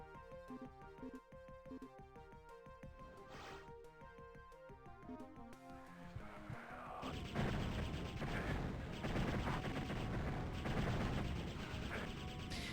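Plasma-rifle-like weapon in the game Heretic, rapid repeated energy shots over game music, then a dense crackling burst of impacts and explosions in the second half.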